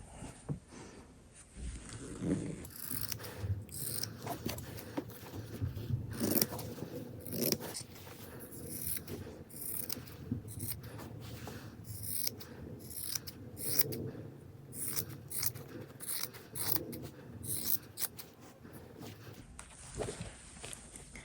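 Scissors repeatedly snip through the lining fabric of a handmade bag, a steady series of close crisp cuts with light handling rustle between them.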